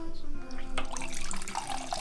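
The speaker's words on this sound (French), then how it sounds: "le robinet et on se sert comme à la source" Water runs from the small tap of a gravity water filter in a woodland cabin kitchen, a continuous splashing trickle into a glass, close and fairly quiet.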